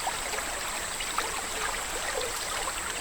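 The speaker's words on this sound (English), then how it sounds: "Now focus on the crystal clear water of these small streams, flowing through the untouched mountainous landscapes of the upper catchment." Small, clear mountain streams flow through untouched Borneo headwaters, making a soft, continuous rush and trickle at a steady level, with a faint high insect-like tone above.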